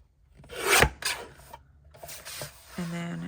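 Paper being trimmed for a junk journal calendar with a rasping, scraping cut stroke followed by lighter rubbing and a short mechanical whir at the end, close and fairly quiet.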